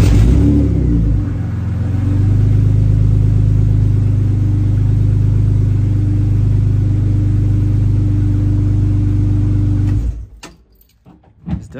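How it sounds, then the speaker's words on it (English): A car engine cranks a little longer than usual after a fuel pump relay install, then runs with a loud, steady low rumble and some revving early on, then cuts off abruptly near the end, leaving quieter noises. "It's definitely cranking for a little bit longer than usual, but yeah, starts right up"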